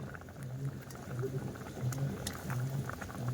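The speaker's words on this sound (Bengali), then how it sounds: "তরকারির ঝোলটা ফুটে উঠেছে" Curry gravy with potatoes boiling in a pot on the stove, a steady low bubbling with soft pops throughout, fairly quiet and close.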